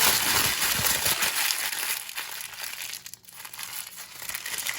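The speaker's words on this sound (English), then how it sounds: "Okay guys, I'm gonna crumple my parchment paper." Parchment paper being crumpled up by hand in a kitchen: a dense, continuous crinkling and crackling close to the mic, with a brief lull near the end before the rustling picks back up.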